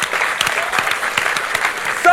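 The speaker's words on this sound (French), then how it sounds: "applaudissez tous. Applaudissez." A crowd claps at a rap battle event, the clapping brisk and fairly close throughout.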